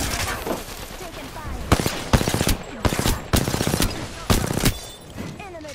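Gunfire in a shooter video game: several sharp bursts of rapid automatic fire, each lasting about a second, separated by brief gaps, with voices speaking in between.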